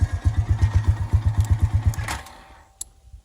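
Motorcycle engine chugging in an even, low, thumping rhythm close by for two seconds, then winding down and dying out into near silence with a last small knock.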